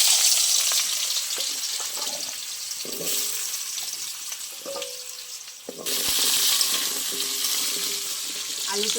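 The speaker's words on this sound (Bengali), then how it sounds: "তেল গরম হয়ে গেছে, কেটে রাখা আলু দিয়ে দেবো।" Cut potatoes hitting hot mustard oil in a wok, a bright continuous sizzle with a few clinks and scrapes of a utensil, the frying surging louder midway through.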